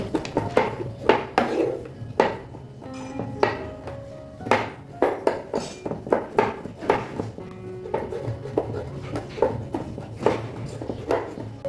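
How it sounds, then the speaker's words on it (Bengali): Pistachio nuts being chopped into small pieces with a knife on a board, a rapid run of close, sharp taps and knocks at an uneven rhythm. "বাদামগুলোকে এখন কেটে নেব এগুলোকে আমি কুচি করে কেটে নিচ্ছি সবগুলো"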